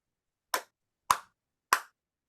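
Three sharp hand claps in a clapping game, evenly spaced about half a second apart, crisp and close against silence with no talking.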